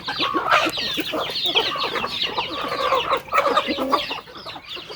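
Many chickens cluck and squawk busily all at once as they are fed, a dense, close, continuous chorus of excited fowl.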